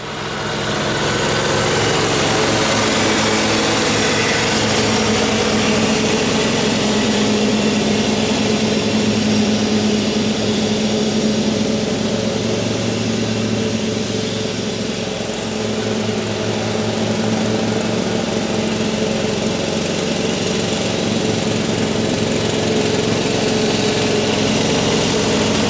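A Husqvarna riding mower engine runs steadily and loudly up close, a constant droning rumble with a buzzing whine that holds almost unchanged throughout, with no talk.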